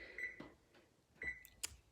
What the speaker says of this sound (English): So we're setting a timer for 15 minutes.